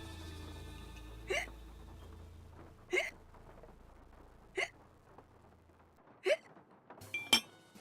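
In a Nancy Drew video game, a character hiccups repeatedly after taking hiccup powder: five sharp hiccups come at even intervals of about a second and a half over quiet background music, with a faint clink near the end.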